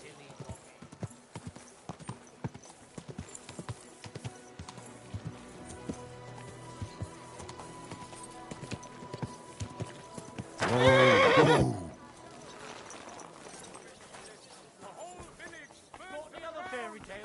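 Horse hooves clip-clopping and a loud neigh in the video game Kingdom Come Deliverance 2, steady hoofbeats under spoken dialogue with a sudden whinny midway.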